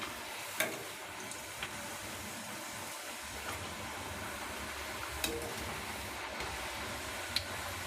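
Murukku frying in a small kadai of hot oil, a continuous bubbling hiss with a few sharp ticks as the pieces are turned over, quiet and close.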